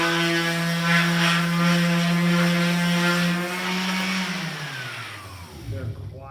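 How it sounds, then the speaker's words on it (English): An orbital sander hums steadily at close range with a strong motor tone and harmonic whine, then winds down and trails off near the end. "This is the orbital sander."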